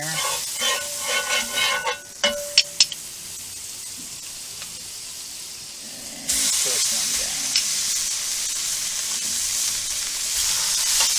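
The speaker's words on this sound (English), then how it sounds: "I'm making this steak outside, an extremely, extremely hot pan." Steak dropped into an extremely hot pan with butter outdoors, with a quiet stretch before a loud, steady close-up sear bursts in about two-thirds through and holds to the end.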